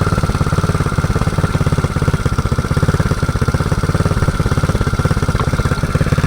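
A mini quad swapped to a Predator 224 engine idles roughly with a kinked fuel line. The loud, close, uneven chugging pulse stays steady with a slight clattery irregularity, and no voices are heard.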